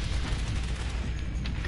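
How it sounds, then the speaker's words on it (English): Dense, continuous gunfire with rattling shots and distant booms in the World War I video game Valiant Hearts: The Great War, loud and unbroken throughout a short stretch. "now gunfire."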